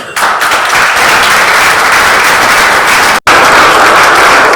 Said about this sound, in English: Let's give them a round of applause before they come up, right?